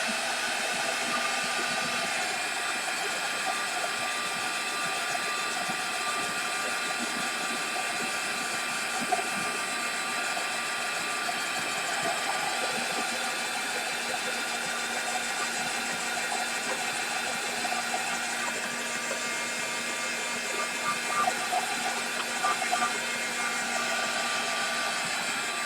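A hair dryer blows steadily on paper craft pieces for a long stretch, a continuous whirring hiss with small bumps in level as it is moved around, with no talking over it.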